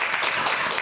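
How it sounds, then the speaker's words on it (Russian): Audience applause greeting news of seven-year interest-free instalments on new cars at a Day of the Motorist evening show in Gomel, a dense steady wash of clapping at moderate level throughout the brief moment. "По-моему, это заслуживает бурных и продолжительных аплодисментов."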